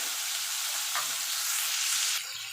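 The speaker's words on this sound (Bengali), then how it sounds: "এবার চিংড়ি মাছটা ভেজে নেব" Shrimp frying in hot oil in a pan, a continuous dense sizzle that drops slightly in level near the end, with no talking.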